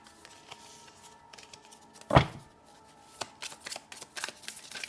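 Angel oracle cards being shuffled in the hands, soft papery riffling and rustling close by, with one sharper flurry midway and quieter scattered card sounds around it.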